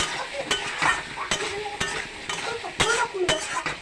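A spoon scrapes and clinks against a pot as mutton curry with garam masala is stirred. Repeated sharp strokes come about every half second over a low sizzle.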